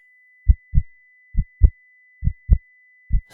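A pounding heartbeat thumps in steady lub-dub pairs, four double beats of deep, muffled low thuds evenly spaced against silence.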